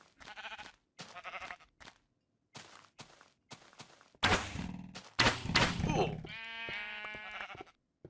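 Blocky sheep in Minecraft bleat several times, loud and close, mixed with game thuds and hits, while a person talks over parts of it.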